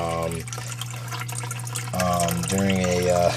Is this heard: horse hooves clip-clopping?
no